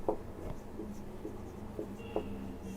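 Chalk or marker writing on a board during a chemistry lecture: several soft, scattered scratching strokes at an even, unhurried pace, fairly quiet against a low room hum.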